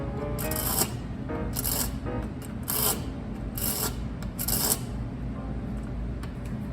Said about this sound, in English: I fine-tuned it just a little with the file because it hit the edge